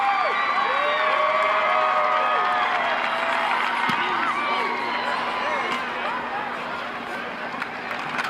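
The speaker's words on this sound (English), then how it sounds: "You can hear the crowd." Stadium crowd at a college football game cheering loudly and steadily throughout, a dense roar with whoops and shouts that eases slightly toward the end, voices mixed into the din.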